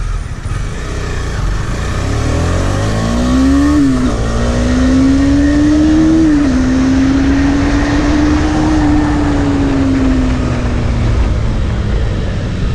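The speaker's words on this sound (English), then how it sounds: "now we'll test the initial acceleration in this" A motorbike accelerating hard, its engine roaring loud and close as the pitch climbs through gear changes, then holds and slowly falls away.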